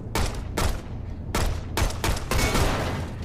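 Several loud bursts of gunfire in Shadow Complex crack out close together, about five sharp shots in quick succession with brief gaps, with no talking over them.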